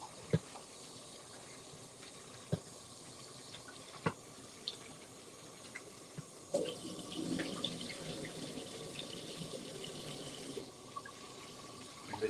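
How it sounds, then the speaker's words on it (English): Water in a sink during rinsing: first scattered drips and small clinks, then a fuller, continuous run of splashing water through the second half. Quiet and close, with no speech. "Give it another rinse."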